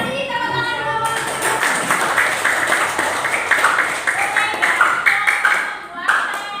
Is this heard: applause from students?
yes